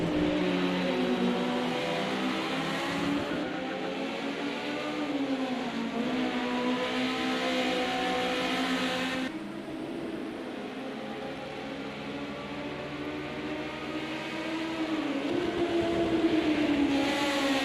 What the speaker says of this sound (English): Cadot gets that Ford very, very squirrely on the brakes